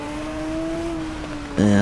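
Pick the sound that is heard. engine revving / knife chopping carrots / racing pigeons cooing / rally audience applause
engine revving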